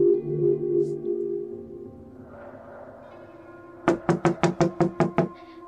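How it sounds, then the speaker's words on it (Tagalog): Someone knocks on a house door from outside, eight quick, evenly spaced raps in a sharp burst after a stretch of quieter background sound. "Pagkatapos marinig ang sunod-sunod na katoka sa labas ng kanilang pintuan."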